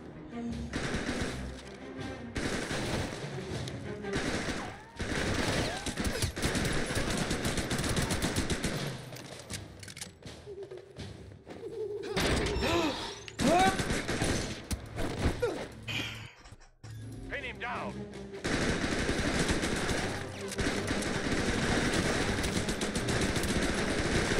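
AK rifle fire in the video game Robert Ludlum's The Bourne Conspiracy, loud sustained bursts of automatic gunfire with short gaps between volleys, a voice occasionally heard beneath.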